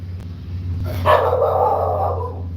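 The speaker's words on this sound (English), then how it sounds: "That's my dog, Ruby. She's a red heeler." A red heeler dog lets out a single bark followed by a drawn-out, whining yelp, fairly close against a steady low hum.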